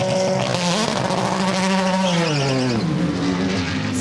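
A Porsche race car launches out of a pit stop at the Rolex 24 at Daytona, its engine screaming loud and close as the pitch climbs and then drops through gear changes, with a brief tire squeal.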